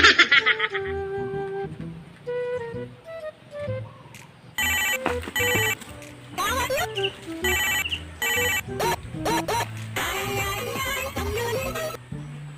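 A telephone ringtone plays loud and close in a comedy skit, its electronic melody repeating in bursts, with laughter and voices around it.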